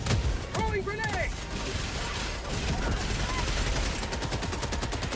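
Gunfire and rapid machine-gun bursts fill a Helldivers battle. A distinct grenade blast is not clear, and a voice with tonal shouts rises near the start.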